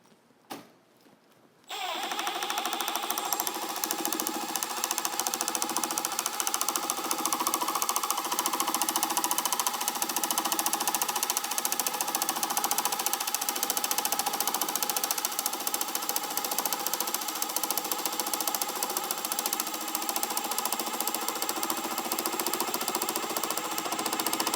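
After a brief quiet moment, a Milwaukee M12 FUEL Surge hydraulic impact driver on speed 1 starts up and runs continuously, driving 1 5/8-inch drywall screws with a steady whirring, rapidly pulsing mechanical buzz, close and loud, with no talking.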